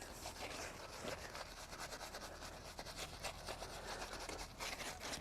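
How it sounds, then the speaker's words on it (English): A pure bristle paint brush scrubs paint into deep brick mortar joints, giving a steady, close, continuous rasping and rubbing with quick repeated strokes and no talking. "The pure bristle brush for this, it's made for it."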